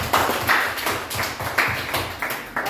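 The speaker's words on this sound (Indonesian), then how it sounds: "Tepuk tangan untuk kita semua." A small group of students claps in a classroom at the close of a lesson, a few rhythmic bursts of hand clapping repeating about every half second, close and fairly loud, with no talk over it.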